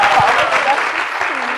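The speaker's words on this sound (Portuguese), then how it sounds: "palmas para a Cecília" An audience at an education conference round-table claps together, a short burst of applause close and fairly loud, while a voice speaks faintly over the clapping.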